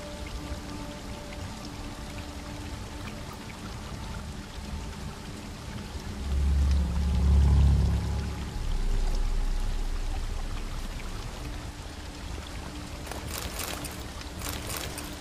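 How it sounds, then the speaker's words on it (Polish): A stream flows steadily in The Witcher 3: Blood and Wine, a continuous close wash of running water that swells louder midway, with faint splashy crackles toward the end. "Ten strumyk płynie do góry? Dziwne."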